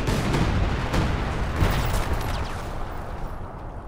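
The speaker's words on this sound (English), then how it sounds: "Artillery from the uh, Panzer 4." Panzer IV shelling in a Company of Heroes 2 match: a series of loud, overlapping booms and cracks that land in quick succession and then trail off as the barrage dies away.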